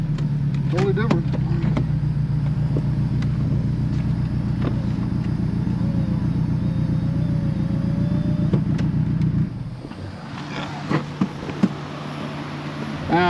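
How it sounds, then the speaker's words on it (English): Small four-cylinder engine of a BMW Mini idling steadily with a low, even rumble and faint revs, then dropping off abruptly toward the end as people talk over it. "I thought it was going to sound like crap being a little four-banger in a Mini."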